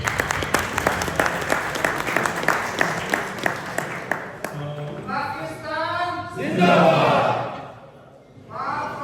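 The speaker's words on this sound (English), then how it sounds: "let's have a big round of applause for the late Khalid Al-Ramisa" An audience at an Eid Milan community party applauds with a crowd of distinct, fast claps that fade after a few seconds into someone speaking into a microphone.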